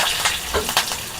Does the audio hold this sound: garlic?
yes